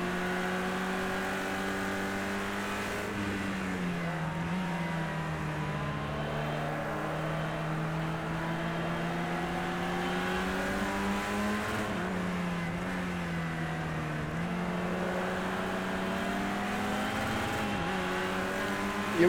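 A Ferrari engine in the racing game Project Cars 2 revs steadily up and down with a loud, sustained tone whose pitch rises and falls repeatedly, with no one speaking.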